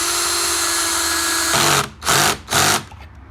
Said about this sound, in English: make sure our drill is going the right way